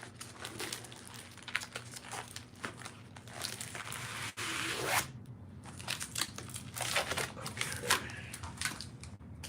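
A heavily taped package holding comic art is unwrapped, with close crinkling, tearing and crackling of tape and paper in irregular bursts; a voice briefly speaks.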